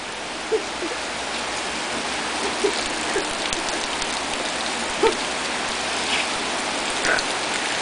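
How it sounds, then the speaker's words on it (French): Steady rain pours down outdoors beside a gutter, a dense close hiss with scattered louder drips and splashes throughout. "Hey, mais il mouille en salle, là."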